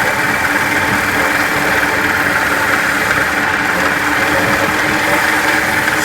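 A wood lathe spins a Royal Poinciana hollow vessel at 1200 RPM, giving a steady, loud, even motor drone with a broad whooshing hiss and no breaks.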